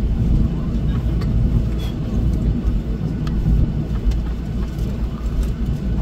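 An airplane flies overhead, making a loud, steady broadband roar that holds throughout without clear breaks.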